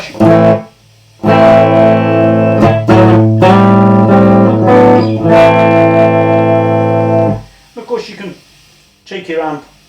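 Electric guitar played through a TC Electronic G Natural effects unit with light compression and modulation on, delay and reverb off: sustained, bright chords ringing for several seconds, a short pause, then sparse plucked notes at the end.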